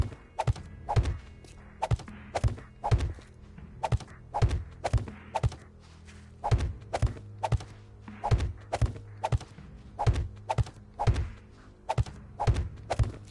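Blunt-weapon strikes in the survival video game 7 Days to Die: a long, steady run of heavy thuds and thwacks landing roughly every half second, close and punchy over a low droning background, with no talk.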